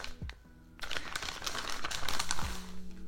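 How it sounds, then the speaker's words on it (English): A plastic bag holding a wig crinkles and rustles as it is handled and opened, with close, broadband crackling bursts and soft handling noise running through most of the moment. "then my actual wig comes in this plastic bag"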